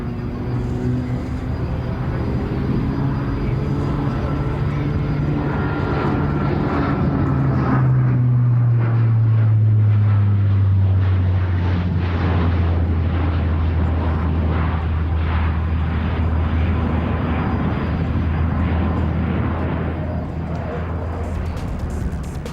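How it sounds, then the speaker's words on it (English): Alenia C-27J tactical transport aircraft at the Farnborough airshow: a loud, sustained turboprop drone whose deep tone slides downward as it passes close by, leaving a broad roar fading slowly. "the C-27J is a tactical transport designed for mid-size missions, payloads and budgets"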